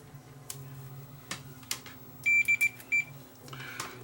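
A multimeter gives a few short, sharp continuity beeps while wires are being tested, clustered in quick succession, with soft handling taps and clicks around them and a low background hum.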